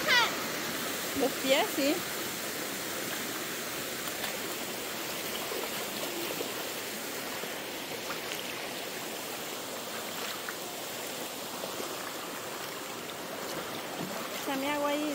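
A river flows steadily nearby, a continuous rushing wash of water that runs throughout, with voices speaking briefly and splashing at moments over it.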